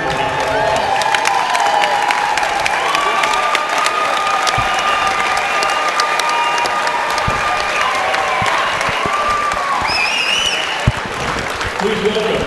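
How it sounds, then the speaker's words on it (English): Crowd applause and cheering fill a gym at a girls basketball playoff game between Brighton and Arapahoe, a dense steady ovation with scattered whoops and children's shouts, continuous for the whole stretch. "ladies and gentlemen, please give them a round of applause."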